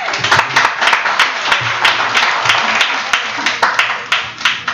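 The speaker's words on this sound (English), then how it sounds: "So definitely, we want to applaud Michael Brown." A crowd applauding steadily at an awards show, dense clapping with scattered sharper claps, loud and continuous throughout.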